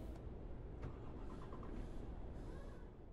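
A DAF XG+ truck engine starts up in Euro Truck Simulator 2, a cranking, rumbling ignition that settles into a steady low idle, heard quietly with no talk.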